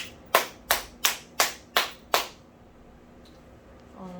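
Six sharp, evenly spaced claps ring out in a church, crisp and close with a quick decay, followed by near silence.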